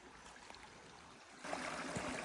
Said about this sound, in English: Pretty tame little stream at the moment.